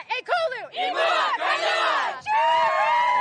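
Members of the Kailua Canoe Club shout their club cheer in unison at a Hawaiian state canoe regatta, a loud chanted call in several bursts, with voices rising and falling together and brief pauses between phrases.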